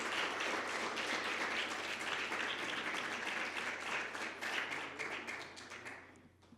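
An audience of hospital staff at Hospital Angeles Puebla claps in sustained, dense applause over a faint low hum, holding steady before tapering off near the end.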